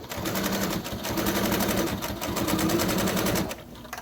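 A sewing machine stitches a fabric skull cap, a loud close rapid mechanical chatter running almost continuously, with a brief slowdown near the middle and a stop near the end as the fabric is turned.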